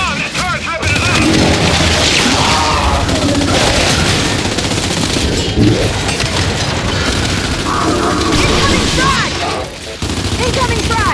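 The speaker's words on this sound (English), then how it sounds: "this turret's ripping it up!" A turret in the Gears of War 5 video game fires continuously in a loud, dense mechanical barrage, with shouted game dialogue and explosions mixed over it.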